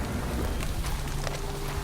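Rain falls steadily in a forest as a horror audio drama effect, a dense, continuous hiss with soft patters and a low rumble underneath, alone without voices.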